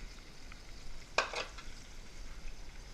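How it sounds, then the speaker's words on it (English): Sausage dropping into a hot pot for a Cajun chicken and sausage pastalaya, with one sharp burst of sizzle and stirring rising briefly over a low steady background hiss. "go ahead and add your sausage. We're going to stir this a little bit"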